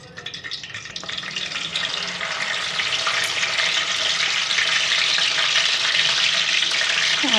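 Oil poured into a pan in a home kitchen starts to sizzle, a crackling hiss that builds steadily and then holds loud and even.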